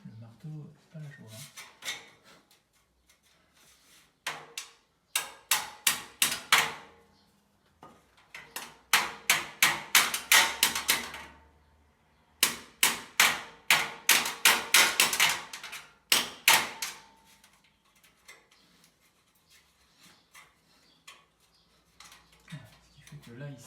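Hammer blows strike ceiling framing for a drop ceiling fitted with recessed spots, loud close taps in fast rhythmic bursts separated by short pauses, with brief speech at the start and end.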